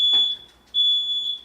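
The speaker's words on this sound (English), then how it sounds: "But our smoke detectors work. It detected the chorizo grease and it's telling us to eat." A kitchen smoke detector, set off by chorizo grease, sounds two loud piercing electronic beeps separated by a short pause.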